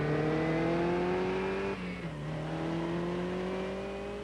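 A Porsche 944 sports car drives steadily with a loud, close engine drone, its pitch rising smoothly, dipping briefly mid-way as if shifting gear, then climbing again.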